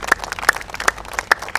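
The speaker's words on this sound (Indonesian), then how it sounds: "Berikan tepuk tangan buat Tuhan." A church congregation at a worship service claps in an uneven patter of sharp hand claps, moderately close, with no voices over it, lasting under two seconds.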